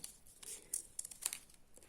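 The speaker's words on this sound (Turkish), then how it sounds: "Makasımla yelpazemin ucunu biraz eğrileştiriyorum." Scissors trim the tip of a paper fan with quiet, crisp snips and light papery crinkling, close and soft.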